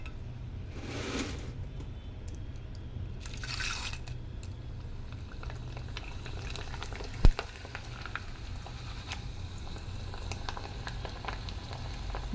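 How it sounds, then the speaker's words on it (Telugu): Corn kernels fry in very hot oil for a summer atukula mixture, giving a quiet, steady sizzle with faint bubbling and one sharp tap partway through. "నూనె చాలా వేడి ఉంటే మంచిగా అవుతాయండి, మంచి పొంగుతాయి ఇవి."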